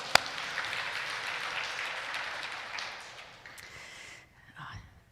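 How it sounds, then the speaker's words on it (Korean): Church audience applause during a Korean Bible lecture: a continuous crackling mass of clapping that fades after about four seconds, followed by a brief murmur and a soft voice. "우리 박수 한번 쳐줘요."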